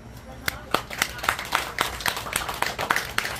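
Steady, rhythmic clapping from an audience keeping time at a live pumba folk performance in Soyosan, with voices over the beat throughout.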